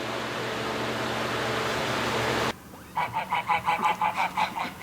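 Ducks give a run of loud, rhythmic honking calls close by, following a few seconds of steady fan-like hum that cuts off abruptly.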